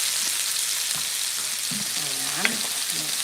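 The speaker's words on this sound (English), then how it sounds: "Now you can see where I'm sauteing it to where we've got some nice browning on the edges" Zucchini and yellow squash sauté on high heat in a pan, a steady broadband sizzle with occasional stirring scrapes and a brief clink, close and continuous.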